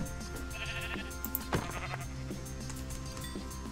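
Sheep bleat in Minecraft over a busy game soundscape, giving a few short wavering calls near the middle of the clip. They are moderately loud, with no talk.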